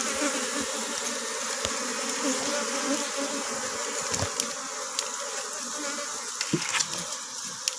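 Honey bees hum inside a drilled tree hollow, a dense, continuous buzz close by with occasional louder passes and faint clicks over it, with no speech.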